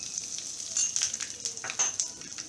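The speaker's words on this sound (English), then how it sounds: "Once this starts to splutter, we will add in our cumin seeds or jeera." Cumin seeds and asafoetida sizzle and crackle in hot oil in a pan, a soft steady hiss with small popping spurts and faint stirring, close and fairly quiet.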